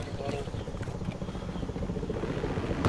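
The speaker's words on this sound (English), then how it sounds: "Police chopper, look out!" A police helicopter in the video game Battlefield Hardline gives a steady, close rotor thrum over dense gunfire and game noise, with a voice speaking.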